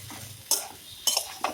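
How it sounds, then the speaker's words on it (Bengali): Large pieces of ridge gourd are stirred in a pan, with three quick bursts of scraping and clinking from a utensil against the metal separated by quieter pauses. "সুন্দর করে একটু নেড়ে চেড়ে নেবো।"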